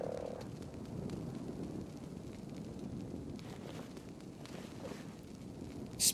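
A frog in the ARK survival video game croaks repeatedly in a low, raspy, rhythmic call that stays close and continuous over soft wind and rustling ambience.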